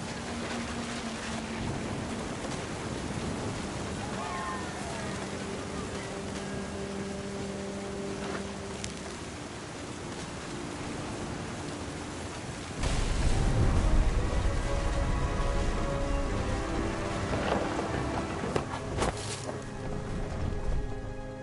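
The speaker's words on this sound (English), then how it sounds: "The thunder sounded much too close and full of angry power." Thunder rumbles and steady rain falls in a storm scene from the video game What Remains of Edith Finch, with the hiss of rain throughout and a louder surge of rumbling about halfway in.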